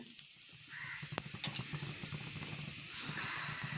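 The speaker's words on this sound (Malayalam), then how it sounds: "കറിവേപ്പിലിട്ടു." Curry leaves hit hot oil with mustard seeds in a pan over low heat, a steady close sizzle with a few crisp pops and crackles.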